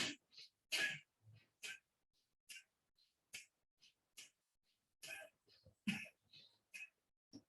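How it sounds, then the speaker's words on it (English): Short, sharp coughs and breathy bursts come in an uneven series during a yoga breathing exercise, quiet and close, with pauses between them. "Always makes me cough."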